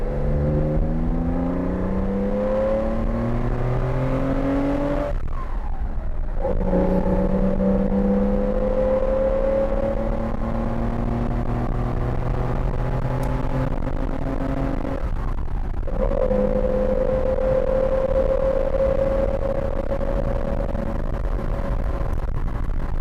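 A Porsche 914-6 engine climbs through the gears, revving up steadily with two clear shift breaks, under constant road and wind rumble.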